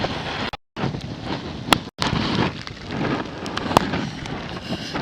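Heavy rain pours down steadily during a coastal storm in Sri Lanka amid flooding, a dense continuous hiss with wind, briefly cutting out twice, no talking.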